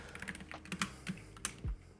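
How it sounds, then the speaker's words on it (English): Typing on a computer keyboard during a coding session, a close, uneven burst of light key clicks with a few louder strikes and no voices. "I'm so tired of typing them."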